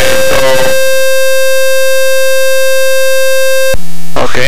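RV-7 cockpit RPM warning alarm. A loud sustained harmonic buzz runs for about three seconds between noisy bursts at either end and cuts off abruptly.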